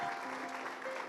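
Applause from a congregation during a Sunday worship service, a steady wash of clapping that holds for the whole moment at moderate distance, with faint voices and a thin sustained tone underneath.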